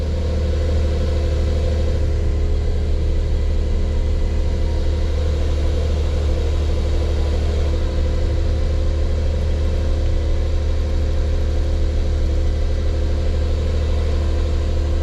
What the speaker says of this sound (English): so now I'll do a cold start off this Porsche